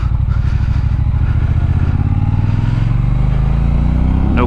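A 2018 Triumph Bonneville T120 motorcycle engine runs loud and close throughout, with its pitch climbing steadily as it pulls through a clutchless gear shift.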